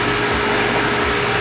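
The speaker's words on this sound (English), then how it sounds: "it causes cavitation in the pump" Pump cavitating on an industrial IIoT demonstration skid, a loud continuous broadband rushing hiss with a low rumble underneath, steady throughout.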